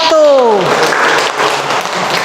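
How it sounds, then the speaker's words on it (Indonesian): An audience applauds a student group during a dental radiography lecture, a brief voice at the start giving way to a steady wash of clapping that carries on to the end. "kasih aplaus sama kelompok 1"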